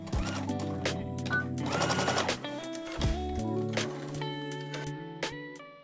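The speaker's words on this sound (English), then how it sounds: "Then I just went and re-sewed a straight stitch on the bottom of that circle." A sewing machine running a straight stitch on a shirred ruffle dress, whirring in several close bursts with brief pauses and small mechanical clicks between runs.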